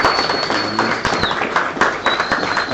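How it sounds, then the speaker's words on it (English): A comedy club audience at an anniversary show claps and cheers in a dense, continuous wash of scattered hand claps and crowd noise, steady and moderately loud throughout. "y'all give yourselves a big round of applause."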